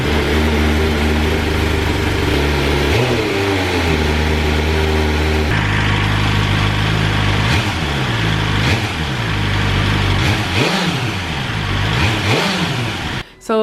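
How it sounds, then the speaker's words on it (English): Stock exhaust on a BMW M1000R motorcycle, heard close up: steady idle, then repeated sharp revs rising and falling through the middle and end, loud throughout with no talk. "let's see how the stock exhaust sounds"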